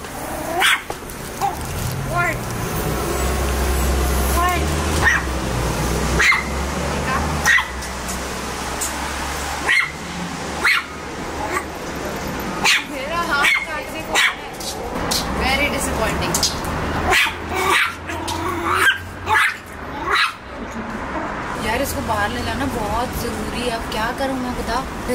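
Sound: French bulldog barking

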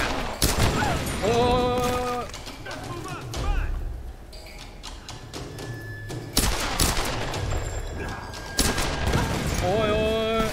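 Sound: gunfire in the video game Tomb Raider

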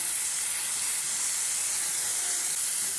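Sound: seasonings frying in pork lard with garlic and onion

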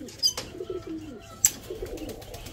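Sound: pigeons cooing

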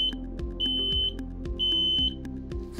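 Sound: smoke alarm test beep

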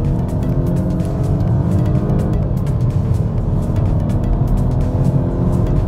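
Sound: Volvo S60 T5 turbo engine accelerating

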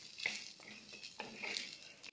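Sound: cluster beans and green chillies sautéing in oil

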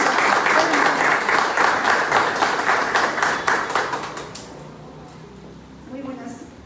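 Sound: audience applause for Sandra Ocampo at press conference

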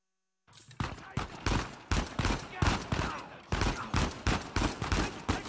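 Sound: gunfire in video game Uncharted 4: A Thief's End

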